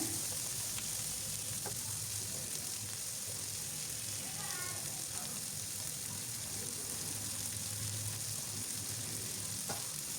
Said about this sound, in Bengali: এই তো পেঁয়াজগুলো প্রায় ভাজা হয়ে গেছে